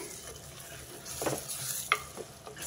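Gongura and chana dal curry with coriander is stirred in a pan, a soft bubbling sizzle with a few brief scraping strokes close by.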